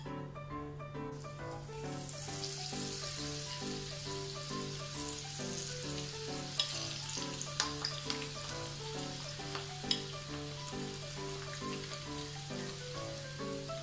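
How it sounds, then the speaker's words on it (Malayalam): Sweet corn kernels frying in oil in a kadai give off a steady, dense sizzle with scattered sharp pops and crackles, close and continuous throughout, with no talking. "ഇത് നമുക്കിനി ഫ്രൈ ചെയ്തെടുക്കാം."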